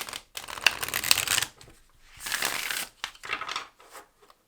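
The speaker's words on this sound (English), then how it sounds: "It's a good shuffle, as I suspected." An oracle card deck is shuffled by hand in several crisp riffling bursts separated by short pauses, close and clear with no talk.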